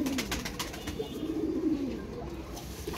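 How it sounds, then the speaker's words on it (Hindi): Ferozpuri breed pigeons cooing softly in a low, steady murmur, with light rustling and background noise throughout and no voices. "ये जी 3 फिरोजपुरी ब्रीड दी है"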